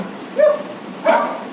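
Two short dog barks about half a second apart, clear and close, with quiet background noise between them.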